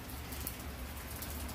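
Rain falls at a beach in a soft, even hiss of drops that stays faint and continuous, with no voices.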